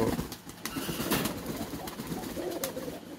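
Pigeons in a pigeon farm coo softly in overlapping, throaty murmurs, a dense low chorus with occasional slightly louder calls nearby.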